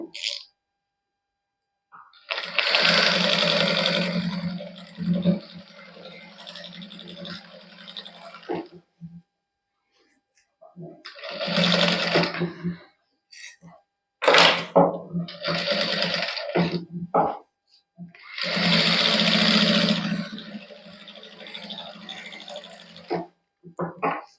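A sewing machine stitching a suit runs in several separate bursts of a few seconds each, with quiet gaps between them, close to the microphone; a person speaks between the bursts.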